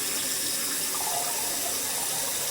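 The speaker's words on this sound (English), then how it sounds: "I'm flushing it now." A toilet being flushed, heard as a loud, continuous close-up rush and gush of water that holds steady without a break, with no talk.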